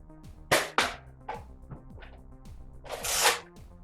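A Nerf Slingfire blaster firing AccuStrike darts: a handful of sharp, close snaps spaced irregularly, each with a quick whooshing tail, the last a longer burst, with no talk.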